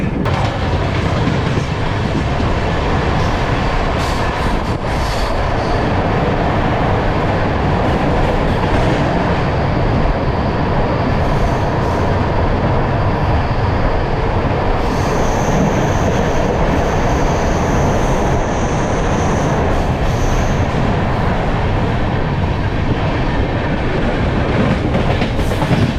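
Passenger train on the Jaipur to Agra Cantt route rumbles loudly and continuously from inside a coach, with rhythmic clatter of wheels over rail joints and occasional higher squeals.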